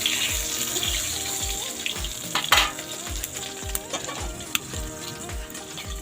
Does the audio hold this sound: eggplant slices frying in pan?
yes